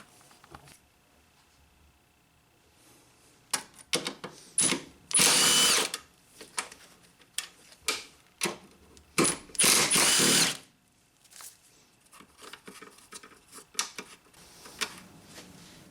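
Power tool backing out two 13mm fasteners from an engine mount on a 2007 Nissan Altima: several short whirring and ratcheting bursts, then two longer loud spins, close up in a quiet garage.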